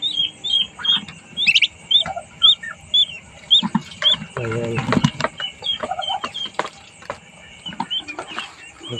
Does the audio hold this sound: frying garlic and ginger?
no